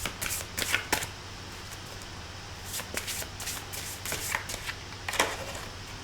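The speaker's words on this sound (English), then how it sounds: "I'm going to get you an oracle card from the Animal Spirit deck, card for Pisces." Oracle cards from an Animal Spirit deck being shuffled by hand, a close, steady run of crisp riffling flutters and soft slaps with brief pauses, heard alone without talk.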